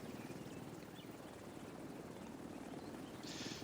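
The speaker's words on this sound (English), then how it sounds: "That's the chopper from the original mission." A helicopter in The Division 2 video game thrums with a steady, faint, low rotor beat that holds evenly for a few seconds with no talk.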